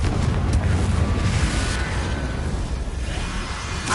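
A Confringo blasting spell explodes in the Hogwarts Legacy video game, producing a dense, loud, continuous rumbling roar of blast and debris that holds steady for the whole four seconds.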